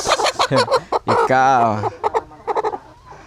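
Farm chickens cluck and squawk loudly and close by in quick repeated bursts, one drawn-out call standing out, while a person briefly speaks among them.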